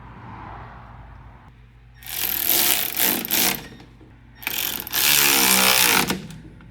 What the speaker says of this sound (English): put our bolts in and tighten those down